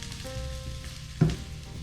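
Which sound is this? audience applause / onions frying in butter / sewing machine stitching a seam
onions frying in butter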